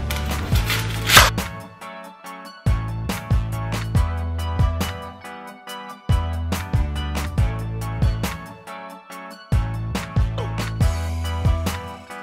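A knife chops an onion on a board in a home kitchen, in repeated bursts of quick, close, sharp thuds separated by short pauses, with no talking.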